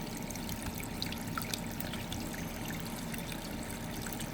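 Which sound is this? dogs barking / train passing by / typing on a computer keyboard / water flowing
water flowing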